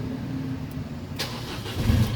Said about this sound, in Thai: หาเราไม่เหยียบเบรกกดปุ่มสตาร์ทแช่ไว้นะครับ